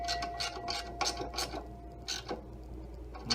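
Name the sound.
tightening a bracket nut with a ratchet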